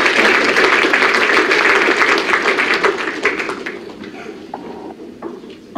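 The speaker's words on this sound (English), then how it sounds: "One more round of applause for Mark and our seniors" A round of applause at a college athletics senior awards assembly, loud and dense at first, then thinning into scattered claps and fading out near the end.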